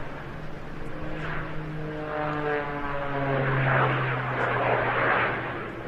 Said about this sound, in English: He calls it the Christmas tree because he's going to spiral up now, getting ever tighter as he climbs.